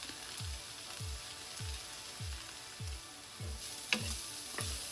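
Anchovies and garlic fry in a pan for passata sauce, a steady sizzle with a regular series of soft low stirring thumps about every half second and a faint clink near the end, with no talking.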